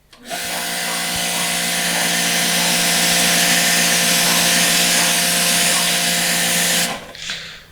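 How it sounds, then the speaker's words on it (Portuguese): A pressure washer's water jet sprays steadily against a dirty surface with a loud, continuous hissing roar and motor whine for about seven seconds, then cuts off abruptly. "Vou jogar o jato, vocês podem ver, ó, sujeira aqui"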